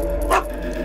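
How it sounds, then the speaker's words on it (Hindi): One short dog bark sounds in a house setting in a dubbed South Indian action film. It is brief and sits over a steady background hum. "भौंक क्यों रहे हो?"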